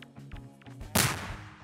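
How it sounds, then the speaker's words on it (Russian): A grenade explosion in Garry's Mod played in VR, a sudden loud blast that follows a few soft clicks and fades away over a short tail. "Ой, прикольно, кстати, взрывы в VR классно смотрится."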